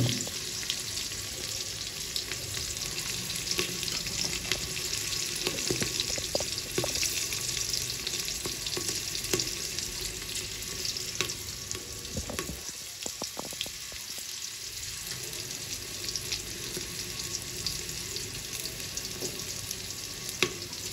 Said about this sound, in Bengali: পেঁয়াজ একটু হালকা ভাজা ভাজা মতন হলে, কাঁচা ভাবটা চলে গেলে